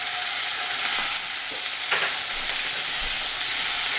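Cocktail burgers sizzle in a few drops of olive oil in a pan, a steady close frying hiss with no talking.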